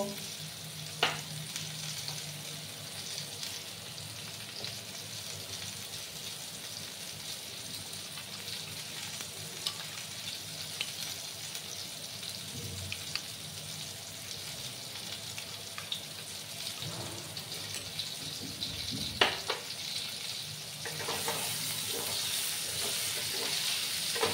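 Pumpkin curry masala with Kashmiri chili powder and water sizzles steadily in the pan, with a few sharp clinks and scrapes from stirring and a brighter surge of hissing near the end.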